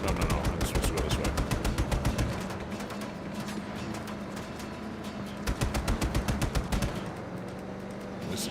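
Fast rattling machine gun bursts from a mounted gunner in Just Cause 3 hammer on steadily, with a short pause before resuming in rapid rhythmic volleys, loud and continuous over game noise.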